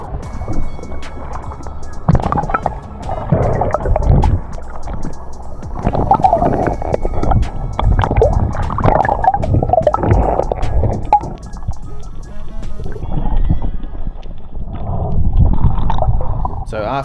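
A kayak paddled out on open water before a crayfish dive in New Zealand, with splashing and water sloshing at close range, wind buffeting the microphone throughout, and occasional talk.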